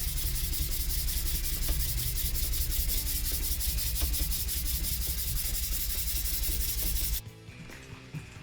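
A gyuto knife blade is sanded on 280 grit in a steady, continuous rubbing rasp with slight rhythmic pulses, close and loud, stopping abruptly near the end and leaving quieter room sound.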